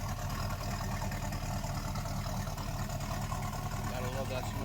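A 1968 Oldsmobile Cutlass S Convertible engine, carburetor not rebuilt, idles steadily with a low, even rumble heard close by and no talking over it.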